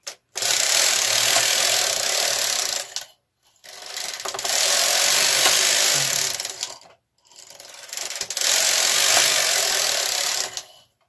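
A KH 230 knitting machine carriage is pushed across in three long rasping passes, each with a loud steady whir and short quiet pauses between rows.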